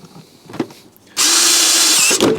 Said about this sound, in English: My lovely new drill.